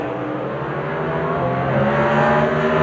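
Two 500 cubic inch Chevrolet Camaro drag race cars at the 1982 NHRA NorthStar Nationals roar together in a loud, steady, sustained engine blast with rising pitch, nearby and alone.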